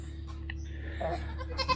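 Goats on a farm bleat a few times, ready to be let out to their outdoor pen. The calls are short and moderately close, over a steady low barn hum.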